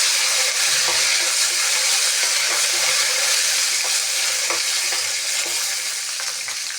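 Curry leaves crackle in hot oil alongside frying cashews for curry leaf rice, producing a loud, dense, continuous sizzle that fills the whole stretch without pause.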